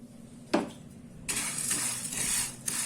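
Dried black urad dal is poured into a pan to be dry-roasted, starting with a single sharp clink and then a sustained rattling, hissing patter of grains as they land. Up close, with a brief clatter near the end.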